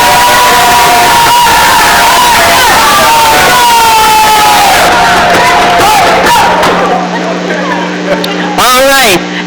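Teams of cheerleaders at an adult literacy spelling bee raise a loud, continuous crowd roar of shouts and cheers that stays dense throughout, with a brief sharp rising squeal near the end.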